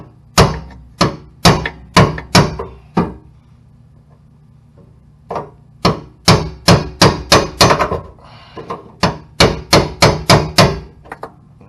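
Hammering a fuel pump lock ring on a Crown Victoria with a brass piece, loud close metallic strikes in quick bursts of several blows each, separated by short pauses.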